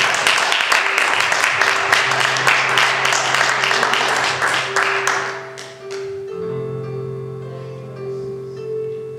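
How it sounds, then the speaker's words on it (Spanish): A church congregation claps together in a dense, sustained burst of applause over held keyboard tones. The clapping fades out after about five seconds while the music carries on alone. "Dale ese aplauso al Señor."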